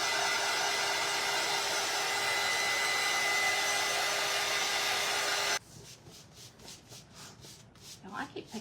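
A hair dryer blows loud and steady for several seconds, drying craft paint between coats on a wooden strawberry truck sign, then switches off abruptly and is followed by soft rubbing and brushing sounds.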